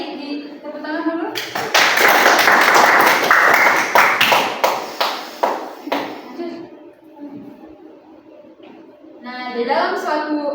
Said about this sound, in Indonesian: Jawaban yang baik, di tepuk tangan dulu